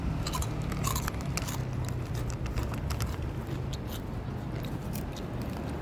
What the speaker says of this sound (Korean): 얘도 풀 뜯어 먹는 거 봐